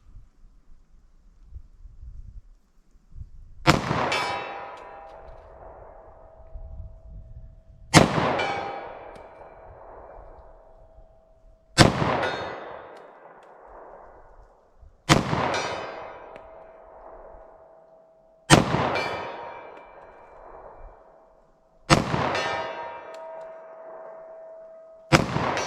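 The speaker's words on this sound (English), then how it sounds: "Now our 45 ACP, let's see how I can do with this from 75 yards." Six .45 ACP pistol shots fired at a target 75 yards away, each a sharp loud crack with a long ringing decay, spaced about four seconds apart with quiet in between.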